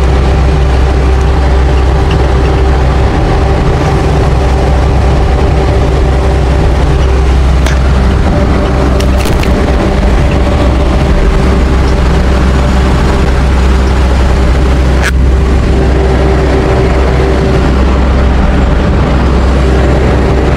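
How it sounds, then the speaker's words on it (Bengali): A ferry engine crossing the wide Karnaphuli river gives a steady, loud low drone with a constant hum throughout, and a couple of brief higher clicks and knocks rise over it. "চলে যাচ্ছে ফেরি এক পাশ থেকে ওই পাশে"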